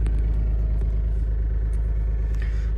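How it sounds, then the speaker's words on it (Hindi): A Maruti Gypsy engine running just after a cold start, a steady, close, deep rumbling idle that holds even throughout, with no voices. "अभी गाड़ी को किया कोल्ड स्टार्ट थोड़ी देर के लिए"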